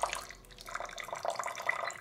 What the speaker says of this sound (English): we're adding 2 tablespoons of water